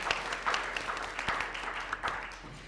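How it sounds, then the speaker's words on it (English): Audience clapping at an in-person writing festival event, a fairly quiet, sustained patter of many hands with occasional sharper claps, steady for a few seconds before tapering slightly. "Go ahead and clap for them too."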